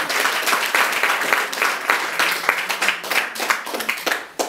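Audience applause at a live comedy café-theatre show: a loud, dense, steady wash of many hands clapping close by, holding for several seconds before thinning slightly at the end.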